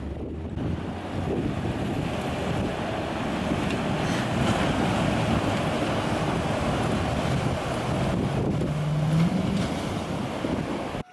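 A Chevy truck pushes through deep water at a dredge mine site in the Idaho backcountry near Warren and McCall, a continuous rushing, churning wash with wind buffeting the microphone and no talking.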